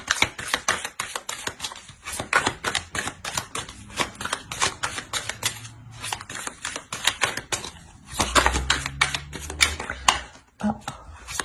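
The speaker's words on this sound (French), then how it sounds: "On va rajouter des cartes." Tarot cards are slid into the deck and shuffled, making rapid crisp flicking and tapping clicks in close, uneven bursts, with faint talking at times.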